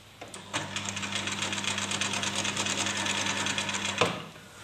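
A sewing machine stitches a fabric dart toward its tip, running in one steady burst of rapid, even needle clatter for about three and a half seconds before stopping with a click.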